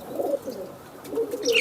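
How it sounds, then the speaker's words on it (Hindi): A tournament flying pigeon coos in soft, low repeated phrases, close by and alone, with a faint higher chirp near the end. "बहुत ही ईमानदार कबूतर"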